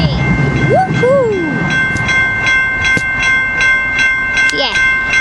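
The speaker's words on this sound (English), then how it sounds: "Yeah, great train there goes all the way south into the station." A San Diego trolley train rolls past the station platform in the quiet zone, its steady rumble and wheel noise close by, with several short rising squeals and tones over it.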